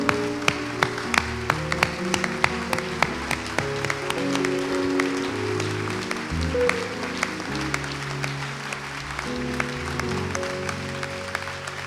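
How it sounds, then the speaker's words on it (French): A church congregation applauds during a worship service, with a steady stream of sharp, rhythmic claps over loud, ongoing music that continues throughout. "Acclame très fort le Seigneur."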